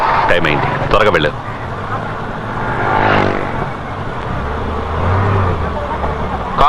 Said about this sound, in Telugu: కారు ఆపండి అయ్యా.